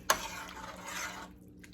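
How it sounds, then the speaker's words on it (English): Spinach being stirred into the liquid of a white chicken lasagna soup in a pot: a sharp utensil knock at the start, then about a second of soft, close sloshing and scraping that stops abruptly. "So we are just going to stir that around. Make sure it gets under the liquid."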